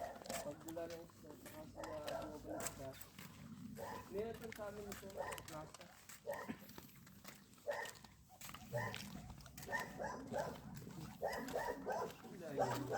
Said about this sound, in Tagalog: Dahil nung kursada guys dito, puro aso.